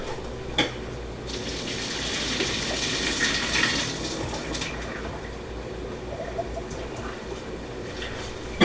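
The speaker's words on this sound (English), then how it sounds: "I'm going to go ahead and drain the water out of it." Water from a pot of cooked broccolini drains in a steady broadband gush, close and moderately loud, with a few brief clanks of the pot near the start and end; no talking.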